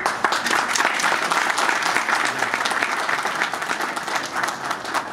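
Loud, dense applause from a large crowd at a product launch event, sustained and even for several seconds with no voices above it.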